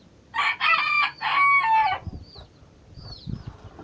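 A rooster at a poultry breeding farm crows loudly and close in a long multi-part call, followed by softer clucks and small scuffling noises from the chickens around it.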